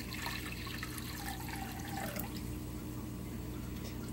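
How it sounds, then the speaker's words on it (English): Leftover vodka poured into a soap mixture for Russian-vodka cold process soap, a steady close liquid pour with splashing and trickling, no talking. "All right, Aaron, will you pour in how much vodka we have left?"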